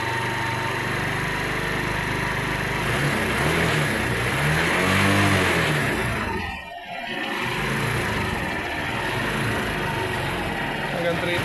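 A 2003 car engine revs up to about 3,000 RPM and back down, its droning tone climbing then falling over a few seconds against a steady close idle, with no talking.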